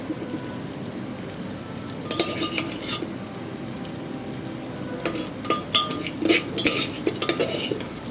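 Clams coated in turmeric masala being stirred and fried in a pan for a clam roast, with a steady close sizzle broken by bursts of a spatula scraping and clinking against the metal.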